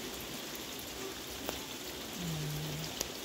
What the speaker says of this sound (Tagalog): Nagpatak ang ulan dito sa aming bayan.